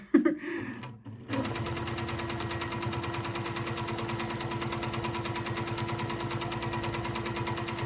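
A sewing machine stitches a swirl feather in free-motion quilting, a fast, even mechanical rattle that runs steadily after a brief quiet start with small handling sounds.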